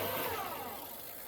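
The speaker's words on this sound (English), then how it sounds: "I'll hold my back wheel off a minute and just show you with the throttle" A Bafang e-bike hub motor whirs steadily as the lifted back wheel spins freely under throttle, a smooth continuous mechanical hum that tapers slightly toward the end.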